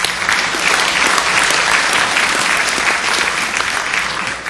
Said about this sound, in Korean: 박수 부탁드리겠습니다.